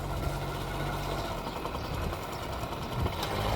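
A Stella 143 moped engine struggles to rev, giving a steady, close, rough drone that never climbs in pitch and swells slightly at the end.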